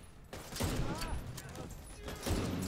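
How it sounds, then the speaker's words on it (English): A sniper rifle firing explosive rounds in The Division 2 makes dense, rolling bursts of gunfire and blasts that swell loud and wash together, with voices faintly mixed in. "sniper with explosive rounds makes a lot of sound"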